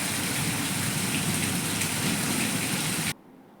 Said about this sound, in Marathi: छान वाटलं पाऊस पडला ते